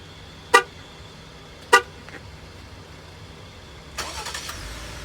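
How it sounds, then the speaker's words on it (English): A 2019 Jeep Grand Cherokee or Dodge Durango engine turns over and starts by remote start after two short, sharp electronic chirps, then settles into a soft idle nearby. "you can instantly hear that engine"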